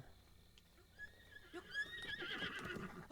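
A horse in the video game Breath of the Wild whinnies in a rising, trembling neigh over faint background game sound, moderately close but fairly quiet overall.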